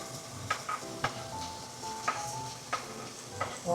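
Fish cake stirred in a frying pan makes a soft sizzle, broken by a few clear clinks and scrapes of a utensil against the pan, at low volume with no speech.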